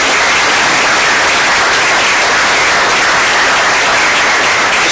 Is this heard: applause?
yes